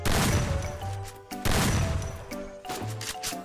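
A shotgun with a Reaper skin fires in a shooting game: two loud, close blasts about a second and a half apart, each followed by a short metallic pump-action clatter.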